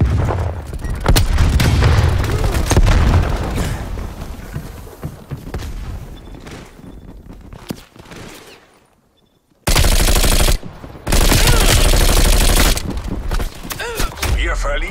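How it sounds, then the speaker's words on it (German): Grenade explosions and rapid gunfire erupt in a Call of Duty Black Ops Cold War multiplayer match, with loud booms and bursts of shots, a brief near-silent lull, then renewed heavy firing, while voices call out in German. "Granate geht raus!"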